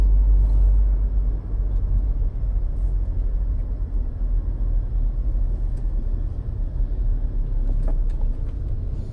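A 2014 Toyota Innova 2.0E drives along the road, a steady low engine and road rumble heard from inside the cabin, continuous and fairly loud, with no talking.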